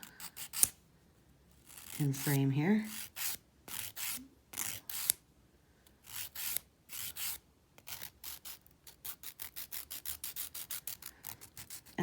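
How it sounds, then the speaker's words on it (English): Close, rhythmic strokes of a nail file shaping a dip powder nail while building an apex, a steady series of short rasping passes, with a voice talking briefly near the start. "it's very awkward filing my wrong hand"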